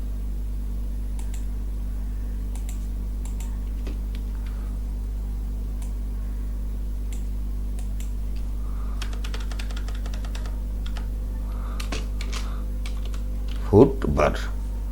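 Computer keyboard typing while building a web page in Windows Notepad, quiet scattered keystrokes over a steady mains hum, growing busier later and ending with a couple of louder taps, while a person speaks.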